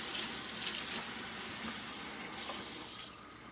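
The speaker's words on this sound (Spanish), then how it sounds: "A veces me enfada estar lavando los trastes con el agua tan caliente" Hot water runs from a kitchen tap while dishes are washed, making a steady, broad hissing rush with a few faint clinks and splashes. No speech is heard over the flow.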